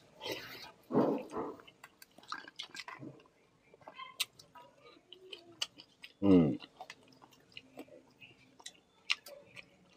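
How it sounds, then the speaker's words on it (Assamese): Bitter gourd seeds being chewed during a home meal, close and fairly quiet, with scattered crunchy clicks and moist squishing and a couple of brief bursts of voice. "মজা লাগে গুটিকেইটা চোবাই।"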